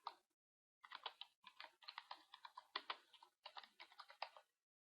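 Rapid keystrokes on a computer keyboard while filling cells in an Excel 2013 spreadsheet, close and clear, in steady bursts with short pauses and no talking.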